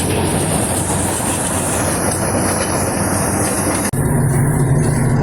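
A combine harvester threshing sunflowers roars in a loud, dense, continuous mechanical drone with rattling, shifting briefly in tone partway through.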